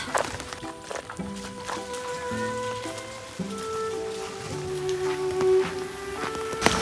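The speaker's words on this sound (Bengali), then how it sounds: "সকাল সকাল অনেক বৃষ্টি" Heavy morning rain patters steadily on surfaces, a continuous wash of drops running beneath background music with no talking.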